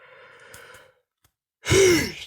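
A person talks briefly, then after a pause lets out a loud, drawn-out yawn with a rising and falling breathy tone.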